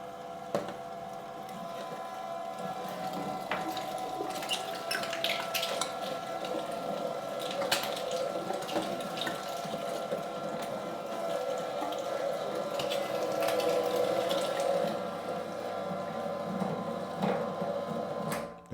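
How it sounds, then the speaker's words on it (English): Meat mincer grinding pork shoulder through a coarse 20mm plate, a continuous motor drone with wet churning and squelching that holds steady for the full stretch, close and moderately loud. "Let's grind that meat."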